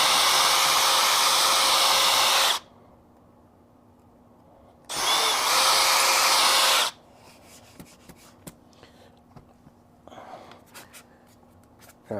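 Two loud bursts of a power drill whirring, a few seconds each with a pause between, followed by quiet clicks and handling sounds.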